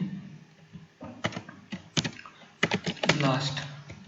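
Typing on a computer keyboard while writing Python if-elif-else code, bursts of close key clicks and clatter in uneven runs, heard under a man's speech.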